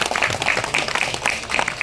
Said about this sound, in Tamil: மேடையை அலங்கரிக்க உள்ள இந்த லண்டன் சிங்கம்புலி அவர்களை பலத்த கரகோஷத்துடன் மேடை கழிக்கிறேன்.